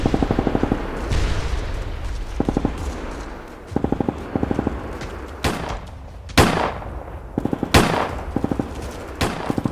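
Gunfire in a Vietnam War jungle firefight in the highlands, 1966: rapid automatic bursts mixed with sharp single shots and heavier booms, repeating in short volleys across the clip, loud and dense with no speech.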